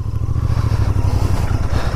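A Royal Enfield Interceptor Bear 650 ridden off-road over dirt and grass, its twin engine thumping in a loud, close, pulsing low rumble with faint clatter from the ground.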